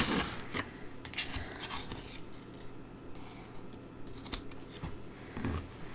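Scissors trim paper strips on a handmade stamped card with several crisp, quiet snips spaced irregularly against a soft background.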